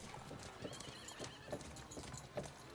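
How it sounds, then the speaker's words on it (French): Horses ridden into an Old West scene in a game, hooves clip-clopping in a steady uneven rhythm with occasional whinnies, fairly quiet and mid-distance. "Et puis ils descendent à cheval."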